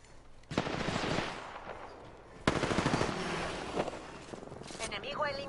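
Bursts of automatic gunfire from the Apex Legends video game rattle in two long volleys, fairly close, with in-game character voice lines sounding over the shooting.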